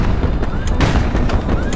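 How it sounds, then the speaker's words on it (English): Missiles launching and blowing up in the airship combat game HighFleet, a dense run of booming blasts and whooshes layered over steady low rumble, fairly loud throughout. "they're already firing off missiles"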